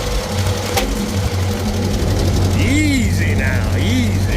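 A Ford 8N tractor engine runs loud and close on the road in fourth gear, a steady rattling chug, while voices talk over it.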